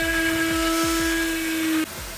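A power tool cuts a hole in plastic interior trim of a Lexus IS200, giving a steady, close, high whine that stops abruptly near the end.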